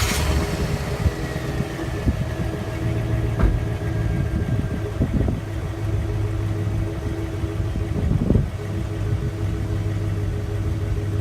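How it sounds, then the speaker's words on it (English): A 2001 GMC Sierra pickup's V8 engine idles steadily with a low, even exhaust rumble fitted with a quiet exhaust, heard close and continuous throughout with a couple of faint clunks. "it's got that classic V8 rumble"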